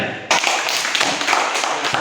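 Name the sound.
children clapping their hands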